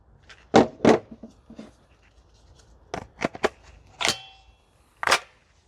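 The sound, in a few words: VFC UMP45 airsoft gun firing BBs on the range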